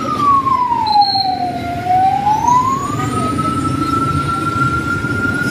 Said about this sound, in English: Another emergency vehicle.